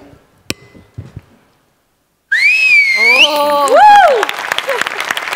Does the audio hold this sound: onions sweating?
no